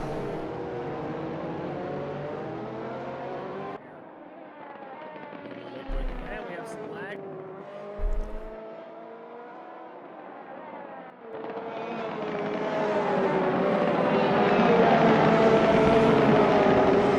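GT3 race cars at Donington in a sim racing game roar past in a steady, loud engine drone that shifts pitch with gear changes, dipping briefly before swelling louder again.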